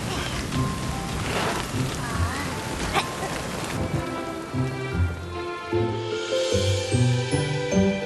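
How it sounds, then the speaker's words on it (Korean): A heavy cartoon rain shower pours as a dense, loud patter for several seconds, then music takes over. "이건 금방 그칠 거야. 여긴 이런 비가 자주 오거든."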